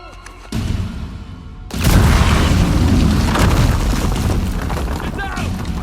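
An explosion in the game Uncharted 4 erupts as a heavy, loud boom followed by a long roaring rumble and scattered debris, with voices calling out in the background.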